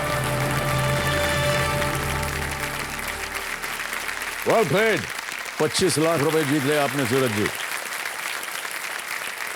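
Applause from a studio audience at the KBC game show, a steady broad wash running under a host's speech throughout.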